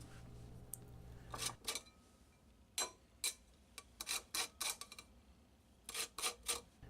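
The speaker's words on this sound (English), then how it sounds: "grate the rind from half of the lemon" Lemon rind grated by hand for a classic sponge cake, heard as a run of short, crisp rasping strokes in uneven bursts, close and fairly quiet, with brief pauses between passes and no talking.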